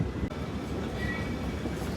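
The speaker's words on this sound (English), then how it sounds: "Well, that was fun, riding the train." Walt Disney World Railroad train arriving at Main Street, USA station: a steady, loud rumble of rolling rail cars with low, continuous wheel noise throughout, no distinct clacks, heard up close from on board.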